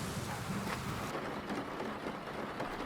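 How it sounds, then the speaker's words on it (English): Steady rain pours down on a muddy rural road in Cambodia, a dense continuous hiss with no voices, heard up close. "it just started to really rain"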